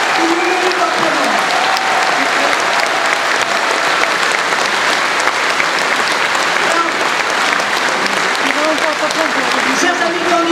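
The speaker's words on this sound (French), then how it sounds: "Oui, vous pouvez les applaudir." Sustained, loud applause from a large crowd at a French political rally for the 2015 departmental elections, dense and steady throughout with some voices mixed in.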